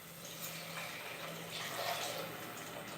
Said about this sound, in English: water going into a nice bit of sizzling onion